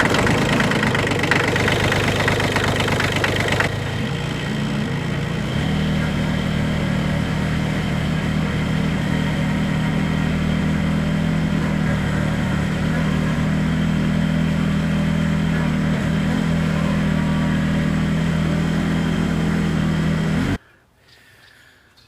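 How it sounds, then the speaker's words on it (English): Kubota four-wheel drive diesel tractor engine running close by, a loud steady rumbling idle with a knocking diesel beat, changing tone after a few seconds and cutting off abruptly near the end. "It's a nice Kubota four-wheel drive diesel tractor"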